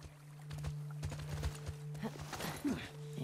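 Horse hooves clip-clop at a walk in The Last of Us Part II, a post-apocalyptic video game, with a brief whinny near the end, under a steady low hum and quiet speech.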